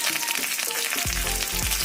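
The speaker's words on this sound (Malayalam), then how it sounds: "നന്നായിട്ട് ചൂടാക്കിയിട്ട് നമുക്ക് ഉണക്കമുളക് ഒരു ബ്രൗൺ കളർ വരുന്നത് വരെ ചൂടാക്കിയെടുക്കാം" Dried red chillies and curry leaves sizzle in hot oil for mango pickle, a loud, close, crackling frying hiss that carries on throughout, with sharp spatters near the end.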